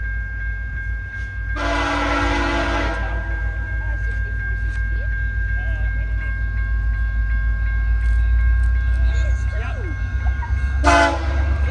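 A train rumbles past close by at Hope Street while its horn sounds two loud blasts, one early and a shorter one near the end, over the steady roar of the wheels.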